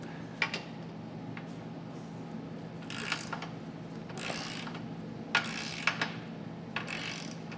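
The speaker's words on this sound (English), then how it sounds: "Now we'll come back with a torque wrench, torque all our hardware to the specifications and the instructions." A ratcheting torque wrench tightens trailer hitch hardware on a 2022 Honda, with short bursts of quick clicking separated by pauses, fairly faint against a steady low hum.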